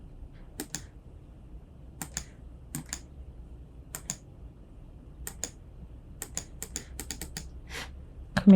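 Computer keyboard shortcut keystrokes during a Photoshop session: sparse, crisp clicks in pairs and small bursts, close and isolated against a quiet room hum.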